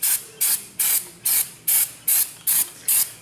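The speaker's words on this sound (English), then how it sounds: "I'm going to go get some brake cleaner, and we're going to clean this off while we're in here." Brake cleaner sprays onto a Buell motorcycle engine in eight short, evenly spaced hissing bursts, each sharp and fairly loud, with no talking.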